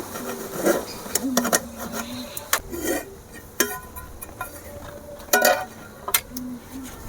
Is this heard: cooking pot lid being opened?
yes